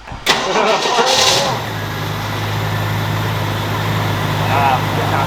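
A Jeep Scrambler's 4.0 engine cranks with a rising whine, catches, and settles into a steady, low idle that rumbles on close by; brief voices are audible early on.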